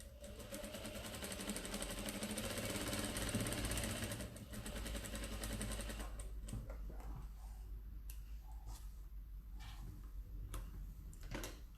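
A sewing machine stitches a striped fabric table runner, a loud, close, continuous mechanical chatter for several seconds that then stops, leaving scattered ticks and handling sounds.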